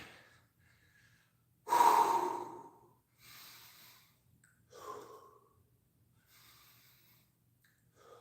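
Heavy breathing during a rest in a core workout: a few slow, deep exhalations and sighing breaths, close and fairly soft, separated by quiet gaps.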